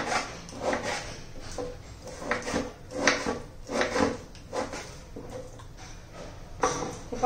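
Knife chopping guava into small pieces on a board, a series of irregular, fairly soft wooden knocks and cuts, close by with no talking.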